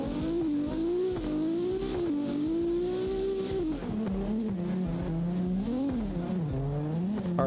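Drift cars in the game CarX Drift Racing, including a tuned JZ-engined Wellington S20, sliding in tandem, a continuous revving engine tone rising and falling with gear changes and throttle, with tire squeal underneath.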